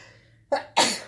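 Two quick sneezes in a row from a nearby person, the second louder and fuller than the first, in an otherwise quiet room.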